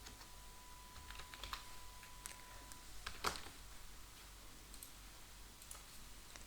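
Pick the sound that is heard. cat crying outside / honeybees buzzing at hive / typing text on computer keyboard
typing text on computer keyboard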